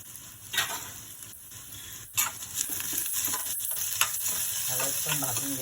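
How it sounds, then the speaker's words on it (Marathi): Turmeric frying with browned onion in a pan, a close sizzle with several sharp scraping stir strokes, the frying growing louder and steadier toward the end, no speech. "हळद पण भाजून घ्यायची, नाही तर मग वरून टाकली तर कच्ची लागते."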